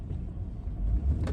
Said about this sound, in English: Holy crap, that car is so close to me.